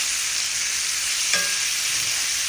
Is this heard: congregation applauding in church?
no